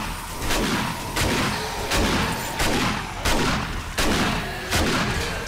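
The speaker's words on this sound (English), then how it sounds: "I like this shotgun." Shotgun blasts in the video game 7 Days to Die during a horde night, about eight heavy shots fired at a steady pace roughly every two-thirds of a second, loud and close with no talk.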